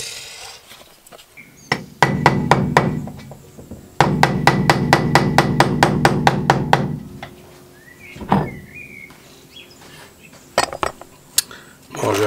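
Metal hammer blows on a seized brake part held in a vise on a Mercedes 500 SL R129, a fast run of sharp ringing strikes in two bursts, followed by scattered clanks and scraping.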